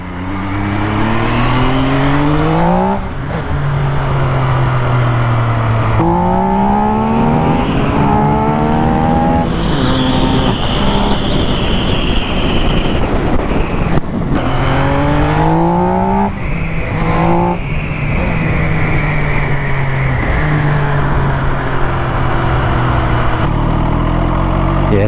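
An MV Agusta Rivale 800 motorcycle engine pulling at low revs, its loud, close note rising and dropping through several gear changes with steady road rush underneath and no talking.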